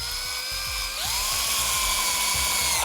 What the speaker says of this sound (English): it's going to pre-drill right through the metal on the back side.